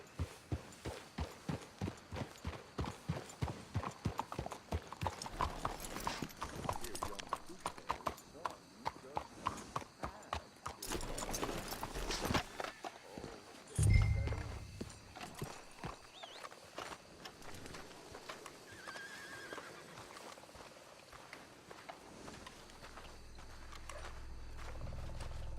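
Horses walking in Red Dead Redemption 2, their hooves clip-clopping in a steady rhythm that thins out and stops midway, with characters talking over them and a heavy thump near the middle.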